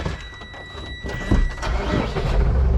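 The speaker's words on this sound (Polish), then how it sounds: "Wałek trzeba wyłączyć i zapalić traktora." A farm tractor's engine is started during a sprayer repair, a cranking catch followed by the engine rising to a loud, steady rumble at close range over a faint background hum.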